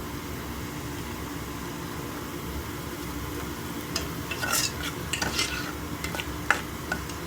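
Rice for egg fried rice is stirred in a frying pan with onions and turmeric, a low steady sizzle joined midway by quick clinking, scraping stirs.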